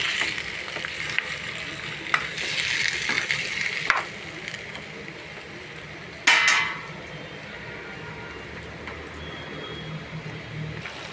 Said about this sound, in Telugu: ఇదిగోండి ఇలా ఉడుకుతుంది